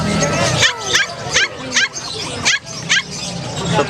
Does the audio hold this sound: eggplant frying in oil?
no